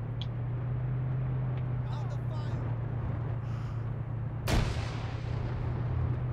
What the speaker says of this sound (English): That was a grenade.